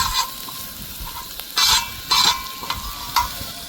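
A royal lajij mixture with green coriander cooks in a pan, sizzling and bubbling with bursts of spoon stirring and clinks of metal, close and steady.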